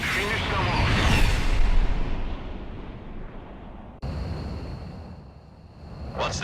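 Missile explosions in the combat flight game Ace Combat 6 make a loud, rumbling barrage of blasts with a sharp break midway and a hissing burst near the end, set against a constant roar.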